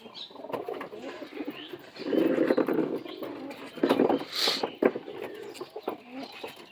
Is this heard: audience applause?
no